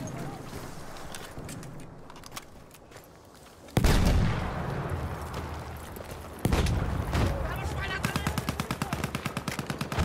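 Automatic gunfire in a multiplayer shooter, sudden loud bursts followed by a rapid rattling string of shots, with talking throughout.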